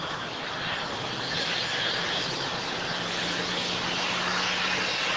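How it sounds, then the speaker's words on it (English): An Embraer E175LR regional jet arriving at LAX airport gives a steady, broad jet roar with a faint low tone that holds at an even level throughout, with no talking. "Our next arrival is Delta Connection Flight 3654, coming in from SFO San Francisco on an Embraer E175LR"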